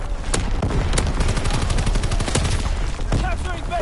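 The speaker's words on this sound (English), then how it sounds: "Firing division artillery." Division artillery fire from a PS4 war game, dense continuous gunfire with several sharp, loud shot transients standing out over a steady rumble of battle, with faint voice underneath.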